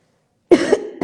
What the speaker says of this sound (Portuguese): Tossindo um pouquinho.